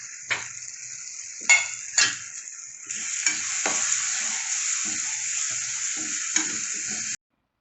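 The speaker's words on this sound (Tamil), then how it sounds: "ஜீரகத்தூள் 1 ஸ்பூன் சேர்த்து நல்லா கலந்து விட்டுக்கலாம்." Ground turmeric, coriander and cumin powders fry in hot oil for a chicken gravy, giving a steady close sizzle broken by several sharp scrapes and clinks of a spoon stirring the pan.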